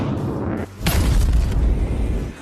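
Rocket strike from an action movie's air attack scene, a deep rumbling boom that swells and rolls for a couple of seconds over a low continuous roar.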